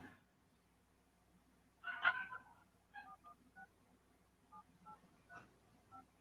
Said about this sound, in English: I heard like dial tone.